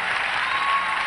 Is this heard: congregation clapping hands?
yes